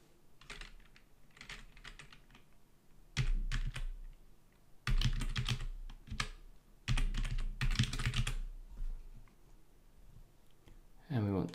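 Fingers tap out a password on a computer keyboard in quick clustered bursts of clicky keystrokes, close to the microphone, with pauses between runs and a brief voice at the very end.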